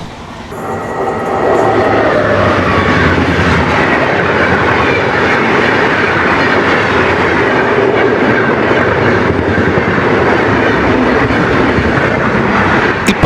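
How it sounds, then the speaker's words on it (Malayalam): Chennai Central to KSR Bangalore Double Decker superfast express train passing close by, a loud sustained roar of rolling wagons with rhythmic clickety-clack of wheels over rail joints, heard alone without voices. "പാസ് ചെയ്തു പോയ ട്രെയിനാണ് ചെന്നൈ സെൻട്രലിൽ നിന്ന് KSR ബാംഗ്ലൂരിലേക്ക് പോകുന്ന double decker super fast express."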